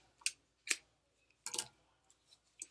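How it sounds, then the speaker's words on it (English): Scissors snip through yarn during a single crochet tie-off, giving a few sharp, close metallic cuts spaced unevenly over a quiet background. "cut your yarn"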